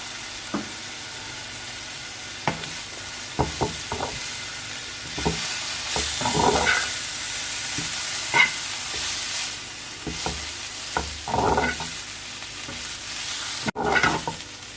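Vegetable filling for spring rolls, seasoned with a little soy sauce, is stir-fried in a pan, with repeated scraping and tossing strokes over a steady sizzle, close and fairly loud, with no talking.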